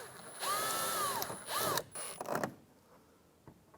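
Bolts on an interior door handle of a 1993-1997 Ford Ranger being snugged down with a ratchet or power driver: two short whirring bursts with rising and falling pitch, then a few clicks and taps before the sound fades to quiet.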